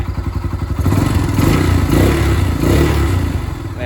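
A Honda Phantom 200 motorcycle engine with a valve tapping fault idles close by, a steady rumble with a clattering, ticking rhythm that swells slightly as it revs.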